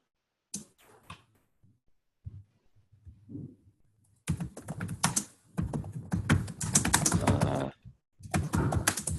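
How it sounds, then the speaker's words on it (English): Rapid typing on a computer keyboard, with dense bursts of keystrokes that pause now and then, close and fairly loud, and no speech over it. "I can hear a lot of keystrokes"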